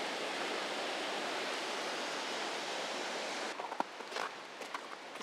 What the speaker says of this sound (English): these falls are so darn loud with all this rushing water